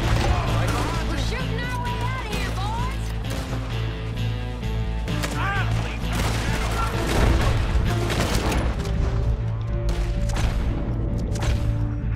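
Rapid gunfire in a Western-themed video game, a steady barrage of shots layered over constant loud music and background noise, with voices talking throughout.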